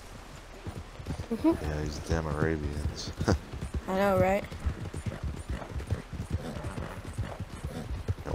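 Arabian horse hooves in Red Dead Redemption 2 clip-clop in a steady, rapid rhythm throughout, close and continuous, under several voices chatting.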